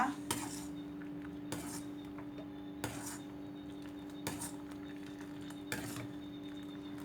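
Metal utensil scraping and knocking against a pan while stirring gravy for pork steak and mashed potatoes, with sharp clinks at roughly regular intervals of about 1.5 seconds over a low steady hum, close and moderately quiet.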